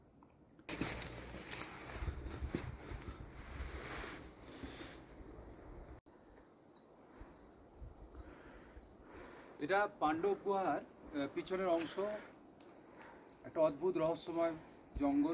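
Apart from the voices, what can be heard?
crickets chirping in forest near Pandav cave, Manali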